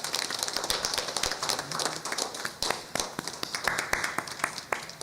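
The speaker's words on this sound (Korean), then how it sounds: "박수 한번 보내주시기 바랍니다" Clapping from a church congregation during a Sunday worship service in honour of a member who read the Bible six times, a dense patter of many hands sustained for about five seconds at moderate distance.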